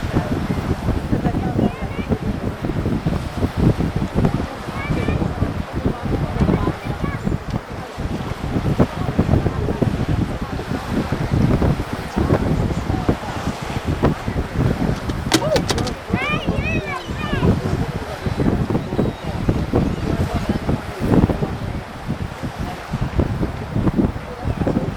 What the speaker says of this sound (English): the wind's blowing so hard, it's like blowing me around